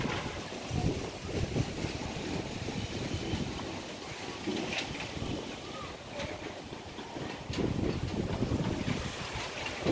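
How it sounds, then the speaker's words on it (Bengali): Strong wind roars over a river during Cyclone Remal, buffeting the microphone in loud continuous gusts with choppy water beneath, swelling and easing across the stretch. "প্রচুর বাতাস বয়ে যাচ্ছে।"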